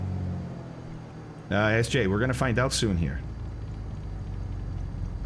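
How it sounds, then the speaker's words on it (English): A Piper Turbo Arrow's aircraft engine idles during a ground check, a low steady rumble running throughout, with a person talking over it partway through. "it takes a lot longer for this engine to bring up the RPM"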